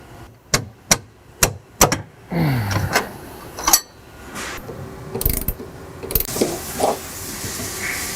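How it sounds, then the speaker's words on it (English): A ratchet wrench loosens the nut on a U-bolt holding the leaf spring of a 1962-1974 Chevy Nova, with several sharp, spaced clicks up close followed by scraping and clanking of metal hardware. "Undo the last nut on the U-bolt, pull the tie plate off."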